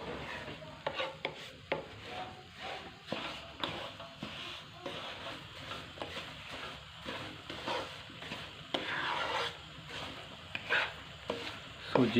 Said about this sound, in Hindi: सूजी को भूनते हुए 5 मिनट हमें हो चुके हैं।